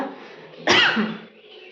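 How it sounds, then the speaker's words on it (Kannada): A single sharp, close cough bursts out from one person in a kitchen, ringing on briefly against a quiet background. "ಏನೋ ಕೆಮ್ಮು ಬಂತಪ್ಪ, ಯಾಕೋ ಗೊತ್ತಿಲ್ಲ"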